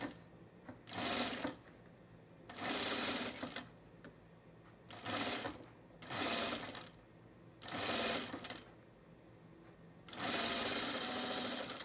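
A sewing machine stitching a seam on an open-weave linen tunic runs in seven short bursts of rapid mechanical whirring separated by quiet pauses, close and fairly soft, with no voices.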